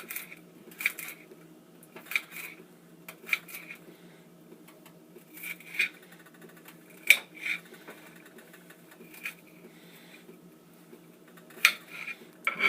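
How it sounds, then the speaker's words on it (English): A knife cuts washed wild onions on a board, giving sharp, irregular taps and clicks spaced a second or so apart over a faint steady background, with no talking. "What we're going to do now is just cut these up a little bit."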